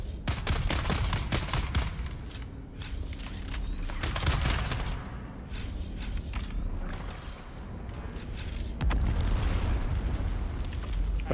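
Grenade explosions and gunfire burst through a player gunfight in Dune Awakening, repeated loud cracks and booms arriving in irregular clusters over a rumbling background.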